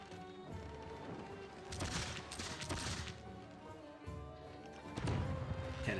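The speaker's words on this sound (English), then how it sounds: "Cannon fire exchange." Cannon fire trading back and forth in the strategy game Civilization VI, a dense rumble of booming shots and crashing impacts layered over steady game music, swelling around the middle and again near the end.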